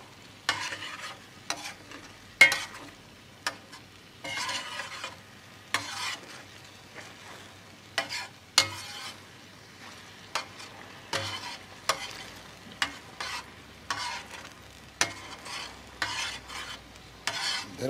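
A spoon's back stirs and scrapes through a cherry sauce reducing in a pan for duck flambé with cherries, giving repeated short scraping strokes in an irregular rhythm over a steady low sizzle, close and moderately loud, with no talking.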